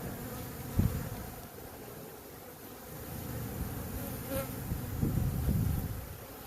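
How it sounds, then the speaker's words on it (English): A soft, steady buzzing of a bee swarm hovers nearby, with a few louder passes and a low hum running underneath. "let's see if I can't get these bees to move a little bit"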